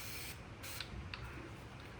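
A handle-trigger spray bottle of cleaner spritzes a few times, giving short hissing bursts over faint background noise, close and quiet, with no voices.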